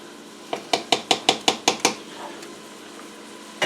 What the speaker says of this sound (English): Grab me a spoon here and check my beef tips